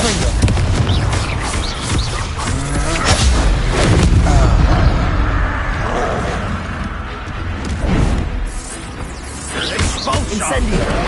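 An Expulso spell explosion in a Harry Potter video game lands as loud, rumbling booms and crashing blasts that roll on continuously, with shouted voices mixed in.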